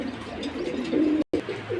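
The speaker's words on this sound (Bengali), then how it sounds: "এই যে লাল খাকি কবুতর," A red khaki pigeon coos in low, soft repeated notes at close range, with faint chirps and some room noise around it.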